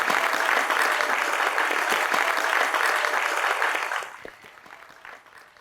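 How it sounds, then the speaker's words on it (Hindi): Loud audience applause at a stand-up comedy show rings out for about four seconds, then fades quickly to scattered claps and quiet. "उनके लिए भी तालियां बजाई दें।"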